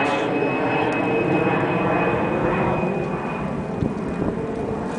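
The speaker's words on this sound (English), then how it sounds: "Let's wait for this plane to go over." A jet airplane flies overhead above a backyard garden, a loud, steady broadband roar with a thin high whine that holds throughout, no talking.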